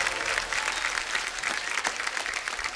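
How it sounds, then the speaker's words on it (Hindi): A studio audience claps steadily and enthusiastically on The Kapil Sharma Show, a dense wash of applause welcoming celebrity guests with no voices standing out above it. "जोरदार तालियां शिल्पा शेट्टी, बादशाह और मनोज मुंतशिर के लिए"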